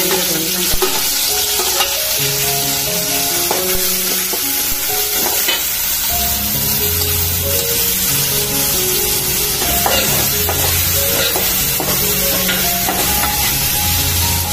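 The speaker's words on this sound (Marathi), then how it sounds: "तेल घालून घेतलेलं आहे, आता त्यामध्ये काय काय जाणार ते आपण बघूया। लसूण, कांदा," Garlic and onion sizzle in oil, the start of a dried prawn curry, as a loud continuous frying hiss with repeated stirring scrapes and clatter, with music playing underneath.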